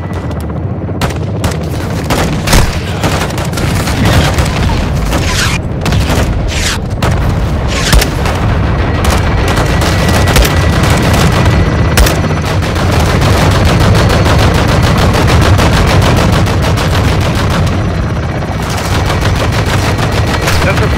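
Dense, loud gunfire and explosions from Call of Duty Modern Warfare 2 run nonstop, with rapid bursts of automatic fire, heavy booms and cracking shots layered over a constant low rumble.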